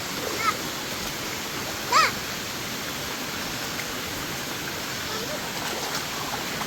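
A small village waterfall in Malappuram pours with a steady, even rush, close by, with a couple of brief splashy bursts over the constant flow.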